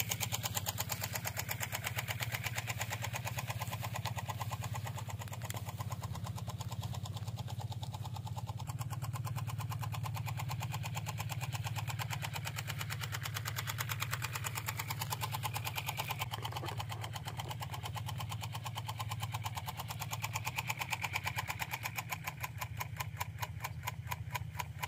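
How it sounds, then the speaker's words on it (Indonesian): A small rice-field tractor engine runs steadily at a low, chugging idle with a constant rapid knock, close and unchanging for about twenty-five seconds. "Dan mesin traktornya sudah kita hidupkan."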